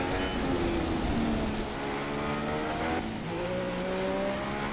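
A Formula 1 race car engine in a racing video game screams steadily at high revs through a final corner, its harmonic whine holding loud and continuous before dipping and climbing again as the car accelerates away.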